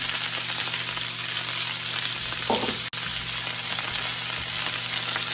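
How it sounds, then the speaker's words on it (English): Chopped vegetables hit a frying pan of cooked chicken with oil for sweet and sour chicken, a loud steady sizzle running throughout with one sharp clack partway through. "we'll add in the veggies now"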